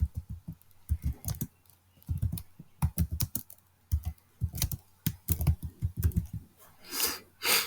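Close keystrokes on a computer keyboard come in quick clusters and isolated taps, with short gaps between words, while an account name is entered; no speech is heard.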